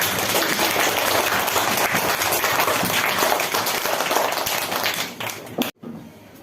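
Students and teachers at a school presentation clap loudly in a close, dense burst of applause that holds steady before thinning out and stopping abruptly near the end.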